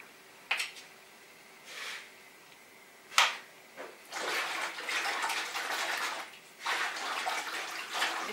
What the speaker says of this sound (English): now wash my hair with conditioner.